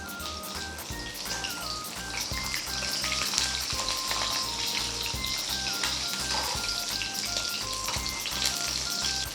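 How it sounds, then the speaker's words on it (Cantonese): Food pan-fries in an iron wok with a steady, close sizzle and crackle that holds at an even level throughout. Light scraping and spattering sit on top of it, and no one speaks. "咁煎完一邊之後，又去煎分零鐘，跟住又再反轉另外一邊再煎一煎下"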